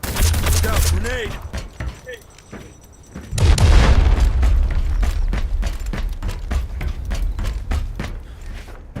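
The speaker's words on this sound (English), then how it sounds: "Look out, grenade!" A grenade explodes in a shooting video game, a loud sudden boom with a rumbling tail, followed by a dense string of rapid gunfire pops; quieter game sounds come before the blast.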